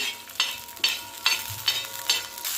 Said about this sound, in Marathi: सोबतच दोन लसणाच्या पाकळ्या टाकायच्या आणि छान हे भाजून घेऊया मिरच्या